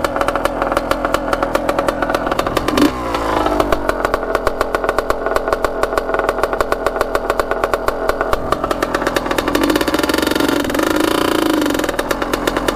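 A Kawasaki Tecate 250cc two-stroke engine revs hard and close, a loud, raspy, buzzing drone that rises and falls in pitch throughout, with no talking.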